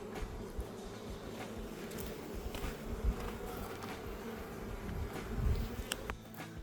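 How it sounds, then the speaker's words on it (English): Honeybees buzzing faintly and steadily around their hive colonies outdoors, a soft continuous hum with occasional louder passes of individual bees. "The bees are happy, they're back in their colonies"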